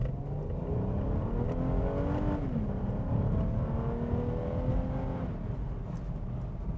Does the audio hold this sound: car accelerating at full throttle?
yes